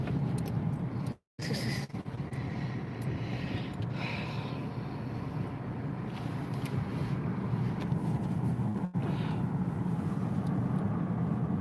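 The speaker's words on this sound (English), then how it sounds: "There's another airplane going in." An airplane flying in to land, heard as a steady broad engine roar and rumble that holds for several seconds with light wind noise on the microphone, no talk.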